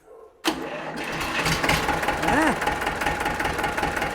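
A tractor engine cranks and catches, then settles into a steady, loud idle with a rough knocking pulse and a brief rising-falling whine, close to the listener.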